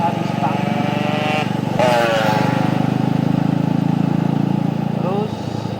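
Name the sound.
assembled Honda Tiger motorcycle engine while riding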